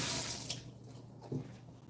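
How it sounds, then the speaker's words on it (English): Tap water runs into a kitchen sink as hands are washed, a brief hissing splash that fades to quieter trickling and light splashes, fairly faint and close. "Wash my hands."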